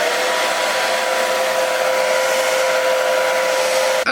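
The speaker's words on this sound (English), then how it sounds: "And now we're gonna blow dry this." A hair dryer blows steadily up close to dry lace spray and glue on a curly frontal wig during an install, a loud, even whine and rush with no talking.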